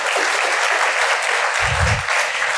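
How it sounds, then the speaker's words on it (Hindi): Audience applause at a health talk on liver care, a steady dense wash of clapping from a crowd that fills the whole stretch at even strength, with a brief low thump partway through. "भाई ताली तो बजा दो."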